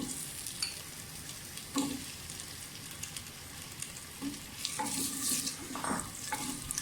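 Potatoes frying in a clay pot, a soft continuous sizzle with irregular scraping and stirring knocks from a utensil, fairly quiet and close.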